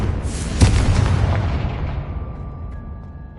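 A Confringo explosion spell from Hogwarts Legacy bursts with a sharp loud crack followed by a deep booming rumble that slowly decays, a faint tone lingering as the blast fades out.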